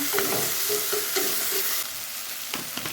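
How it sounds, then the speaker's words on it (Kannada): Vegetables and turmeric for a simple vegetable pulao frying in a pan, a continuous close sizzle broken by several rhythmic stirring scrapes, heard alone without talk. "ಸಿಂಪಲ್ಲಾಗಿ ಫ್ರೈ ಆದರೆ ಸಾಕು, ಜಾಸ್ತಿ ಫ್ರೈ ಆಗಬೇಕು ಅಂತಲೂ ಏನೂ ಇಲ್ಲ."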